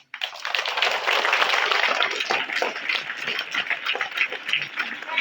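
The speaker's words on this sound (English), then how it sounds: "Let us give them a big clap." Sustained crowd applause fills the whole stretch at a school World Scout Day celebration, a dense wash of many hands clapping at steady volume, with a few voices faintly mixed in.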